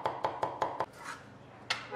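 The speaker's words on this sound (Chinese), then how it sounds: "准备大蒜15克，剁成蒜末备用" A knife minces 15 grams of garlic on a board with a fast run of five crisp, evenly spaced chops, a short pause, then one more near, sharp strike.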